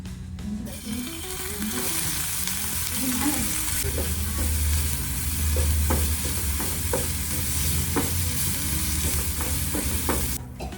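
Ginger garlic paste fries and sizzles in a pan for a chicken curry, with steady frying hiss and repeated scraping stirs from a spoon throughout.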